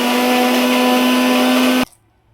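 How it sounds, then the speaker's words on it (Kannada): An electric mixer grinder whirring steadily while blending coriander masala for mutton sambar, a loud close motor drone that cuts off abruptly near the end and leaves near silence. "ಇವಾಗ ತಣ್ಣಗಾಗಿದೆ, ಮಿಕ್ಸಿಗೆ ಹಾಕೋತಾ ಇದ್ದೀನಿ."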